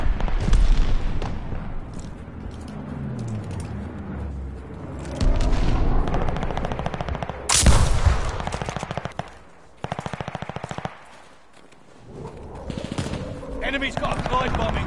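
Gunfire from the Call of Duty: Vanguard video game on PS4: bursts of rapid automatic fire and sharp shots with occasional booms, loud and intermittent, with brief pauses between volleys and someone talking at moments.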